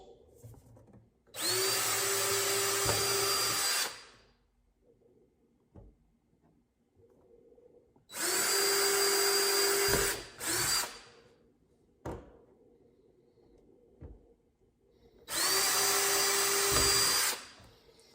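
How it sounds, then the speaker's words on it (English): A power drill whines at full speed in three separate bursts of a few seconds each, drilling four holes while installing a motorcycle tour pack, with quiet pauses and small knocks in between. "Drill out all 4 holes."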